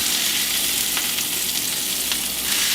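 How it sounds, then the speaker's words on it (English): Hamburgers frying in oil in a pan with a little pepper, a dense continuous sizzle with faint pops, close up and steady throughout, no voices. "I'll flip these hamburgers. I don't want it to overcook."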